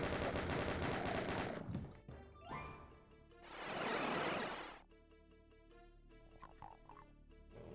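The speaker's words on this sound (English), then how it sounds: "Let's use the chain gun." DOOM's chaingun, fired in level E2M7, rattles out a dense, rapid burst of shots at the start, followed by other loud, booming game effects and quieter scattered in-game sounds.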